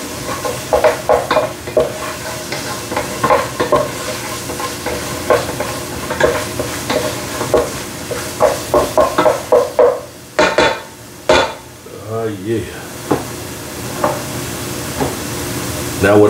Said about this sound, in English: At the same time, it's still frying up.